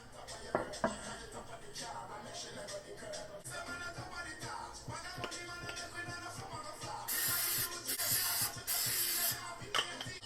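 Cooking spray hisses onto a baking pan while Scotch bonnet cornbread is being made: a couple of loud, close sprays near the end, following softer handling and clatter.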